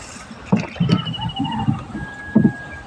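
Paddling a small wooden boat one-handed across a water-lily marsh: several splashy oar strokes in uneven rhythm, close and fairly loud, with a faint tonal hum in the background.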